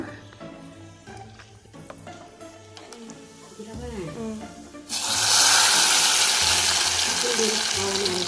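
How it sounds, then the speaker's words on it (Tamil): Raisins and cashews dropped into hot cow's-milk ghee, a loud, steady sizzle erupting suddenly partway through and continuing to the end, following a stretch of someone talking over quieter kitchen handling sounds. "இந்த சிஸ்லிங்கான சவுண்டோட அப்படியே சுட சுட அழகாக அதை கிண்டி எடுத்து வச்சுக்கிட்டேன்."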